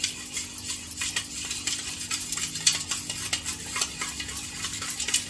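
Dhokla batter with a pinch of turmeric is stirred briskly in a bowl, with a continuous scraping, clinking rhythm of a spoon against the vessel, close and fairly loud.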